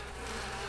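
Honey bees from a hive frame of brood hum in a steady, continuous drone, faint and close, with no voices.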